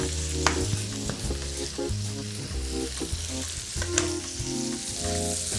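Bacon pieces and mushrooms frying in oil for a pasta primavera carbonara, a steady sizzle running alone under strong tonal music for the whole stretch.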